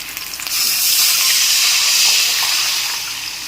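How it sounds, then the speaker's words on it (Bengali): Water poured into a hot pan of frying raw mango pieces for a sour dal, a loud rushing hiss and sizzle that swells after half a second and slowly fades, with no voices. "এখন আমি এর মধ্যে দিয়ে দেব জল"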